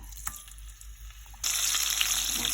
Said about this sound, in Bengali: আমি এখানে তেলটা গরম করে নিয়েছি এখন এটার মধ্যে একটু মাছটা ভেজে নেব